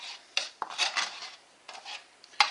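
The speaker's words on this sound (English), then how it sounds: "we scrape them off the inside of the tray" A utensil scrapes cooking residue off the inside of a coated roasting tray after roasting chicken, giving several short, close, raspy scrapes and clinks in an irregular rhythm with brief quiet gaps.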